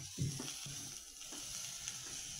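Rice with field beans being stirred and fried in a pan, soft sizzling under scraping spoon strokes in a few uneven bursts, close and quiet with no voice.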